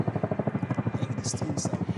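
A large helicopter thumps steadily with a rapid, even rotor beat, close and continuous. A couple of brief higher hissing bursts come in over the top.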